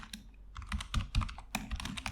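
Rapid typing of code on a computer keyboard, a close, busy run of crisp key clicks with a few heavier strokes, steady and alone with no voices.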